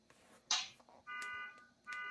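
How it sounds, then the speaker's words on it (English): A car alarm sounds in two bursts of steady multi-tone wailing, moderately loud, following a sharp impact-like burst and brief shuffling noises. "The force of that fucking made that car alarm go."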